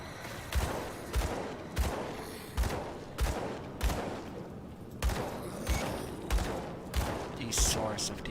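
Gunfire in the video game Grim Dawn comes as a steady run of about a dozen sharp, booming shots spaced under a second apart over a busy background mix.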